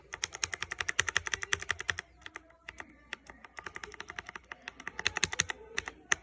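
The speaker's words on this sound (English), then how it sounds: "Here is a lubed one. So here's how close it will sound." Fast typing on a keyboard with lubed Cherry MX White switches produces a dense run of sharp, close clicks and clacks. There is a short pause partway through before a second burst of keystrokes.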